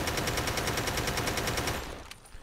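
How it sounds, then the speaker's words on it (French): Rapid automatic gunfire from a rifle in Ring of Elysium, fired unaimed at a wall, sounds as a loud, steady stream of close shots for about two seconds, then stops as a shell-like ring fades out. "je vais commencer à tirer ici et vous allez voir ce que ça donne"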